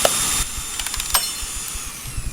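Short bursts of a power drill whirring in a garage during repair of a wrecked 1970s BMW, several quick high-pitched spins and a louder pulse near the middle, close and without voices.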